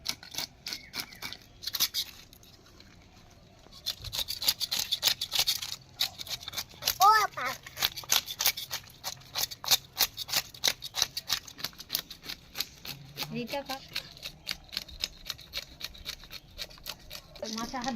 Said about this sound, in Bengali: এখন আমি মাছটা কেটে নিচ্ছি